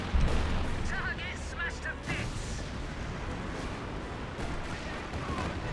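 An artillery barrage in the video game Company of Heroes 2 booms through a replay match, with a heavy thump at the start and scattered blasts over a steady battlefield rumble, mid-loud and somewhat distant.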